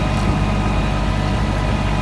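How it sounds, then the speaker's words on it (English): Kubota tractor engine running steadily on a messy tree-strewn road, a continuous low rumbling drone held close and fairly loud throughout, with no talk. "On a tractor ride, Kubota."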